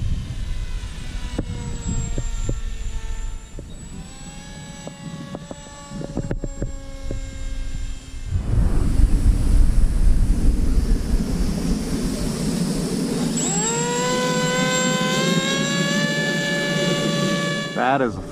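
X-UAV X8 Skysurfer RC plane cruising on a very low power setting, a thin whining motor tone that rises and falls in pitch against a rushing wind-like roar, moderately close.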